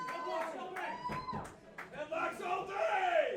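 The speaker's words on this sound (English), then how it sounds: "Crowd chanting headlocks all day." A wrestling crowd chants in unison at a live match, rhythmic shouted voices rising and falling with claps mixed in, close and lively.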